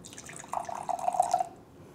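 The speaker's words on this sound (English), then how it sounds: "So you would then pour your wine." Wine pours from a bottle into a glass in one short, gentle stream lasting about a second, close and quiet against a faint background.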